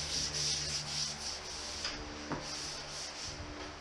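Hand sanding a skim coat with a 3M fine to medium sanding sponge, close, steady back-and-forth scratchy rubbing strokes with a few sharper scrapes, no talk.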